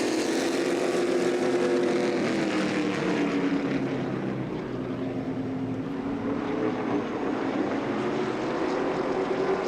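Junior late model race cars circle Irwindale Speedway in a dense, sustained engine roar, several cars droning together at steady distance with slowly shifting pitch and no voices.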